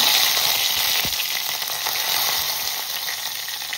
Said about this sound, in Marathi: कांदा व्यवस्थित शिजवून देऊया आपण 2 मिनिटांसाठी